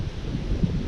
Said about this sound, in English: It's windy and it's warm.